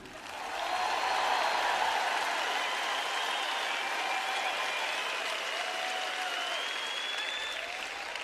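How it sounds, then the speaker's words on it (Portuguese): Church audience clapping at an evening sermon: a broad, sustained wash of applause that swells quickly and holds steady across the hall, with a few voices calling out above it. "Vocês não estão batendo muitas palmas sobre isso?"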